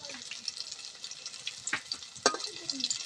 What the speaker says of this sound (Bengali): এখন ভালো করে আমি লাল করে ভেজে নেব